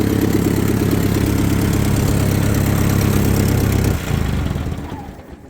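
A 1953 Ford Golden Jubilee tractor engine runs steadily and loudly up close, its worn muffler giving a rough, rumbling idle, then the sound drops abruptly near the end and fades out.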